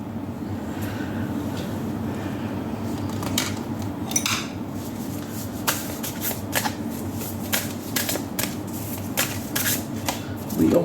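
Tarot cards slide and flick as they are pulled from several decks, giving a run of close, crisp papery shuffles and snaps with short pauses between them, with no talking.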